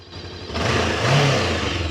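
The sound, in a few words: motorcycle engine revving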